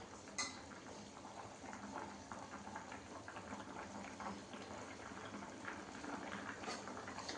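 Potatoes boiling in a pot of water on a home kitchen stove, a steady bubbling simmer running throughout at moderate level, with a couple of brief metallic clinks near the start and end.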